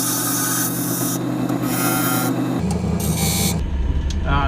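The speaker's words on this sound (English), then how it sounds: "I'm going to go ahead and define both tenons and decide where I want the middle of my box to be." A wood lathe spins a green wood box blank while a tool cuts tenons, producing a continuous close whirring hum with a rough scraping tone that shifts in pitch as the cut changes.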